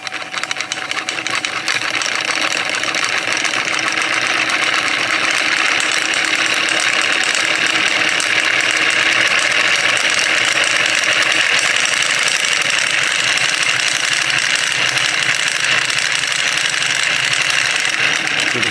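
A spinning magnet flywheel runs at speed, giving a loud, steady whirring mechanical drone with a dense rattling texture that holds unbroken from start to end, with no talking.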